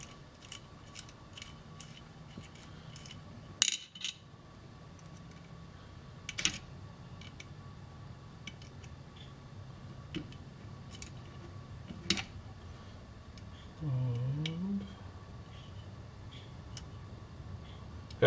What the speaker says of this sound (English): I'm going to bolt these two parts together.